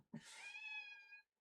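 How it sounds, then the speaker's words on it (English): Wilson the cat gives a single high-pitched meow, a close, clear, drawn-out cry lasting about a second after a short low thump, with no other sound around it. "do you hear how high pitched his meows are?"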